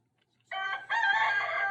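A pet rooster crows indoors at close range, one loud, strained call that breaks briefly and then carries on steadily, with no talking over it.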